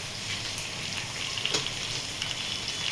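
Cumin seeds sizzle in hot oil in a home kitchen pan, a steady close crackling hiss with small pops, heard alone without talk.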